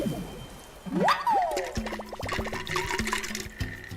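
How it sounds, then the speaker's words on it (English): A straw draws water up from a cup with close, wet slurping and gurgling, bubbly rising squeaks followed by a run of short rhythmic sucking pulses, with no one speaking. "All you're hearing is the straw in my cup."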